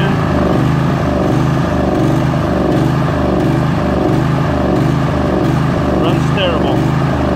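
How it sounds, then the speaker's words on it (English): Briggs and Stratton 22hp OHV engine on a Craftsman lawn tractor with the choke pushed in runs roughly, a close, loud drone that pulses and surges unevenly throughout. "Runs terrible."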